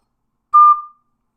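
An ocarina sounds a single clear high D, a steady pure tone held about half a second and then fading, alone with no talk.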